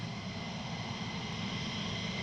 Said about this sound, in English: like another F-15